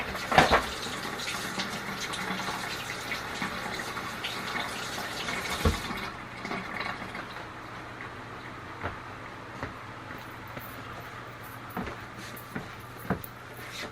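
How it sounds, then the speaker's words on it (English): Water runs from a kitchen tap while hands are washed free of flour, a steady close gush that eases off after about six seconds into a quieter trickle with light clatter. "Let me wash this off my hand."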